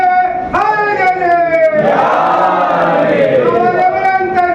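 A large crowd at a Muharram majlis gathering shouts a religious slogan in loud unison, a sustained massed roar of voices rising in a single burst after a lone call.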